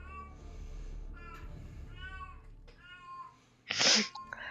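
A cat meows repeatedly in the background, several drawn-out cries spaced through the scene, followed by a brief loud burst near the end.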